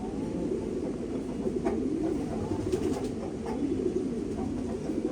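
Racing pigeons cooing nearby in a loft, low repeated throaty coos rolling over a soft steady background hum, with no speech.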